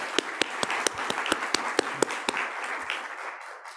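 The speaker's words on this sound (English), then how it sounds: "I'm going to give you a round of applause." Audience applause at a welcome session of a partners meeting: scattered individual claps standing out from a steady bed of clapping that slowly thins and fades out.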